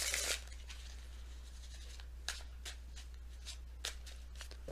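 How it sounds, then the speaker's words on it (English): A quick burst of tarot card shuffling, followed by a few soft, scattered flicks and snaps of cards in a quiet room. "One good shuffle."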